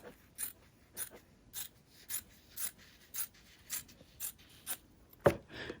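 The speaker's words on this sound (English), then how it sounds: "I'm just going to go ahead and cut across like this" Scissors cut across fabric to trim a seam allowance on an in-the-hoop herringbone zipper bag, a quiet close-up run of about ten evenly spaced snips, then a sharper clack near the end.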